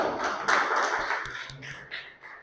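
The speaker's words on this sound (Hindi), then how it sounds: "इसके लिए तालियां हो जाए भाई" A classroom of students claps together in a short burst, the sound swelling quickly and then tapering off, with a faint voice near the end.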